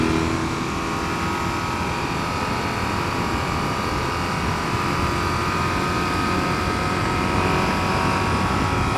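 A 2020 BMW R18 First Edition boxer-engined motorcycle pulling hard toward its rev limiter, a loud, continuous engine roar mixed with wind noise throughout, no voices.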